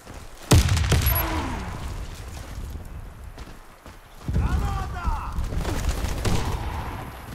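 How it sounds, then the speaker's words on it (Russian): Gunfire and an explosion in the online shooter Warface: a sharp loud blast, then bursts of rapid shots and a heavier rumbling boom, with voices shouting under the action. "Граната!"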